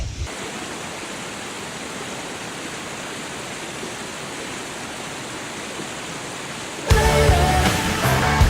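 Broadband rushing water pours steadily down a winding water park slide, a constant loud wash that suddenly swells brighter and more turbulent near the end.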